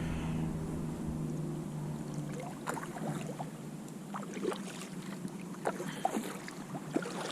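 Pungo 120 kayak paddled upstream against the current on a Florida river, with soft, irregular water splashes and drips from paddle strokes over a steady low hum of wind and water.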